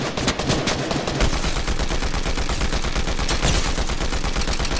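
Rapid automatic gunfire in a video game, a dense continuous stream of shots that speeds into a steady fast rattle, loud and close throughout.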